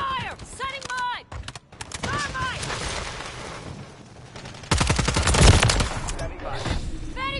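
Video game firefight in Modern Warfare 3, with bursts of rapid gunfire swelling loud in the second half over dense battle noise, while players call out over the action.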